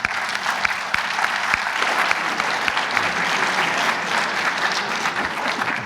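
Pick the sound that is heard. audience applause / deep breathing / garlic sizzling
audience applause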